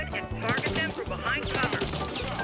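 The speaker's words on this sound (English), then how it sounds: "All right, I'm gunning these guys down." Rapid machine-gun bursts in the first-person shooter Warface come loud and continuous, with quick strings of shots, sharp clattering impacts and layered battle noise running the whole time.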